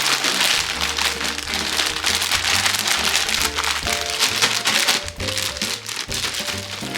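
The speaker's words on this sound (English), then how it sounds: "Add the sauce you just made and toss all of the cabbage." Shredded cabbage tossed with a homemade sauce inside a plastic bag for Japanese pickles gives a steady, close crinkling and rustling of plastic throughout, under a continuous tonal background.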